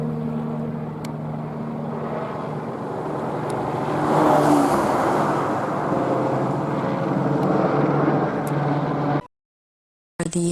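A slow airplane flyby overhead, a steady broad engine drone that swells toward the middle and then holds before cutting out abruptly near the end, fairly loud and with no voices.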